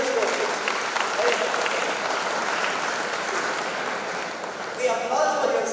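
Sustained audience applause during a speech, dense and even clapping filling the whole stretch at steady loudness, with a brief swell near the end.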